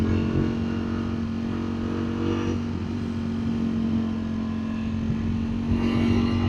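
A 2025 Ducati Streetfighter V4S motorcycle on a road through corners, its engine holding a steady, fairly loud drone with slight shifts in pitch as the rider leans through the bends.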